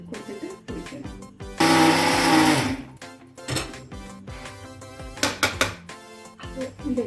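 A kitchen mixer grinder grinds rice into flour, its loud motor whirring in a steady burst for about a second and a half amid clattering and intermittent mechanical rattling from the jar.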